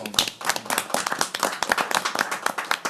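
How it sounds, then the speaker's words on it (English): A small group claps at a county freeholder public meeting, brisk scattered hand claps close by with a few sharp individual strikes, no voices over them. "I want to clap for that."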